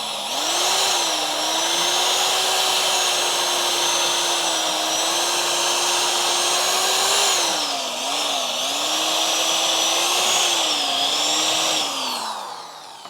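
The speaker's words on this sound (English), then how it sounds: "I'm a little worried about drilling through the rusty areas here because the bit can get caught on the rust." Drill boring through the rusty body of a Crew Cab Charger under restoration, a continuous high whine at a steady pitch that dips briefly mid-run, loud and close throughout.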